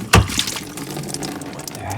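A sudden gush of water splashing out of a camper's freshwater tank drain, then a steady trickling flow continuing quietly with no talking.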